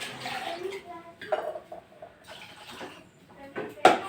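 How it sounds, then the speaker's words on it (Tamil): Boiling water is poured into a pot of black rice porridge in a home kitchen, with splashing and pouring in short bursts, light clinks of a vessel, and a voice talking throughout. "தண்ணி நல்லா கொதிச்ச பின்னாடி ஊற்றிட்டு உடனே கலருங்க"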